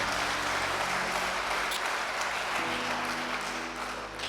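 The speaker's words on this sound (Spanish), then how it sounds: "De un aplauso al Cristo de la gloria por eso." Sustained applause from a church congregation during a Spanish-language sermon, steady dense clapping that fills the whole stretch and eases slightly toward the end.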